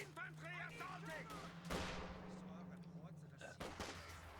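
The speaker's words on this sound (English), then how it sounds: "Is that the LMG? It looks like it's the US MG." US machine gun fire in Company of Heroes 2, faint rattling bursts mixed with heavier thuds and game voices, running under a low steady hum with some shouted unit chatter.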